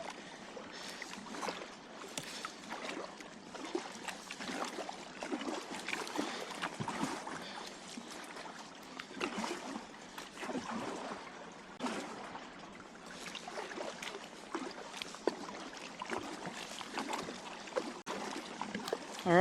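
A kayak is paddled on open water near Hoffman and Swinburne Islands off New York City, soft rhythmic splashes and trickles of the paddle strokes, faint and close, with no talking.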